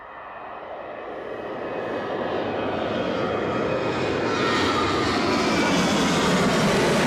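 A KLM airliner takes off, its jet engine roar building steadily from moderate to loud and sustained as it climbs away, with no voices present.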